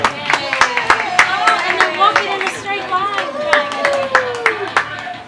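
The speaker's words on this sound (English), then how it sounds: "I'd like you to give them a nice loud round of applause" Distinct, uneven claps from a small audience at a zoo bird show at Ardastra Gardens in the Bahamas, mixed with chirpy, sliding calls and light chatter.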